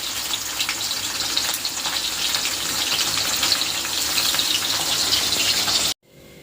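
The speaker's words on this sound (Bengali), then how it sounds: "কড়াই বসিয়ে দিয়েছি, তেল দিয়েছি, মাছটা মানে একটা একটা করে ভেজে নেবো আগে।" Fish pieces frying one at a time in hot oil in a wok, a loud, close, steady sizzle with crackling spatter that carries on for several seconds and then cuts off abruptly.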